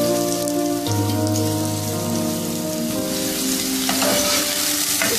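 A finely chopped medium onion sizzles steadily in one to two tablespoons of hot oil in a pan over a medium flame, a constant crackling fry with no voices.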